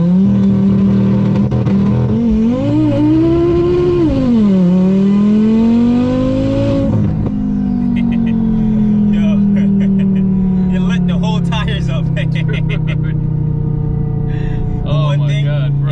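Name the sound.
1150HP Audi TTRS accelerating hard with tires spinning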